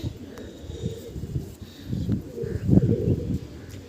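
Pigeons coo in a low, soft murmur that swells and fades, close by, with faint rustling and a few brief chirps, among loft pigeons being flown and timed.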